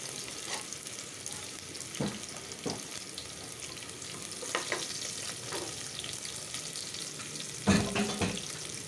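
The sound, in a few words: onions frying until translucent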